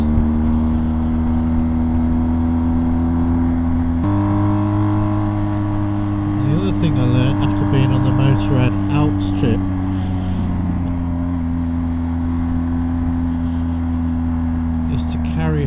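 A BMW R 1250 GS motorcycle engine at higher revs, a steady drone with strong low harmonics, pitch shifting as revs rise and settle, continuous and close throughout.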